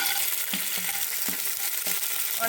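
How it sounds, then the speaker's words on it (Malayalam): Raisins, cashews and peanuts fry in hot melted ghee for a jackfruit-seed payasam, a close, continuous crackling sizzle broken by a few soft stirring knocks, with no voices. "മുന്തിരിങ്ങായും അണ്ടിപ്പരിപ്പും കപ്പലണ്ടിയും ഒക്കെ നന്നായിട്ടൊന്ന് നെയ്യിൽ വറുത്തെടുത്തിട്ടുണ്ട്"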